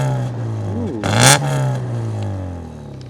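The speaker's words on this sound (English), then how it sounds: "Proper old school 2-litre engine." A 2-litre engine in a low-mileage Ford Sierra Sapphire GLS idles with a deep exhaust note, then revs up in one quick blip near the exhaust before settling back to a steady idle.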